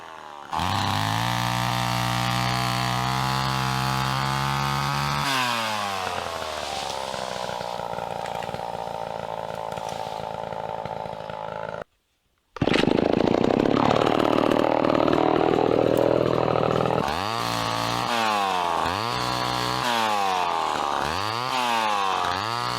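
A chainsaw cutting up a tree in the woods runs loud and close, revving up and down as it cuts, dropping out briefly, then returning with repeated rising-and-falling bursts.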